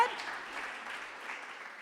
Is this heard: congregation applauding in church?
yes